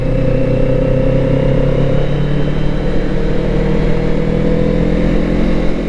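A Kawasaki Z650RS motorcycle engine drones steadily while riding, a loud, even mid-pitched hum with wind rush and no distinct revving changes.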